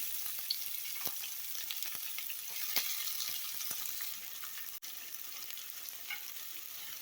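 Onion frying with tapioca in a pan, a steady close sizzle with scattered stirring clicks throughout, alone with no voices.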